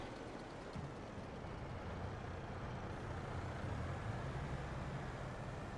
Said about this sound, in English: Just drive the water truck home.